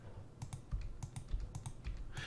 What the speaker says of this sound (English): I'm just going through clicking and deleting on my keyboard here